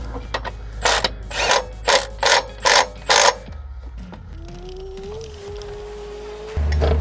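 Ratchet wrench tightening the crank pulley bolt on a 1985 Merkur XR4Ti, six loud rhythmic bursts of clicking close by, followed by a quieter stretch with a faint steady whine and low hum.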